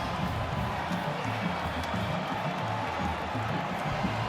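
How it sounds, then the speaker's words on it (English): Stadium crowd at a San Diego State versus New Mexico college football game cheering after a double-overtime win: a dense, steady roar of many voices, loud and unbroken throughout. "Crowd has come on the field. They're going to help celebrate with their football team."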